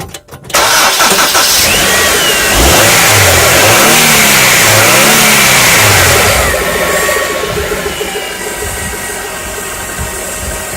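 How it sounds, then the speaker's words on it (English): A 2003-2008 Honda Accord engine cranks and catches, then revs up loudly and settles back into a steady idle, close by with no talking. "Now we can start the engine and have a look."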